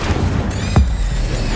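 An Incendio fire spell cast in the Hogwarts Legacy video game: a single short, low whooshing boom that bursts and fades within a fraction of a second over steady game background ambience.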